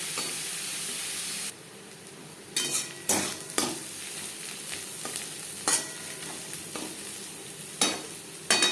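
Onions frying in a pan for aloo chicken curry, a continuous hiss of sizzling broken up by repeated clinks and scrapes of a spatula stirring, close and clear with no speech.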